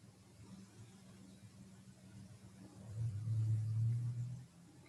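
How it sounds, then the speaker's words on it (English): Low traffic rumble from passing cars, faint and distant at first, then swelling as one vehicle passes closer before fading again. "the sound of traffic"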